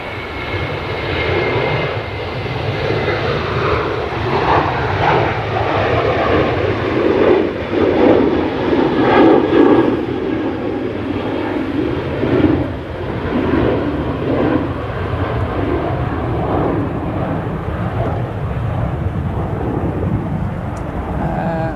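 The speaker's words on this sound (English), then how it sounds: "This is a Ryanair 737 to Shannon." A Ryanair Boeing 737 bound for Shannon roars at Manchester Airport, its jet engines giving a loud, sustained rumble that swells in the middle and holds steady, heard from outside.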